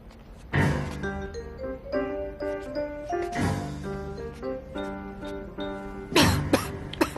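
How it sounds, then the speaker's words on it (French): Several bursts of harsh coughing, close and loud, separated by a musical background with sustained tones. "Arrête de tousser."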